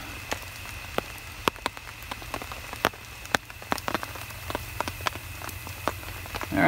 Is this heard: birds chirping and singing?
no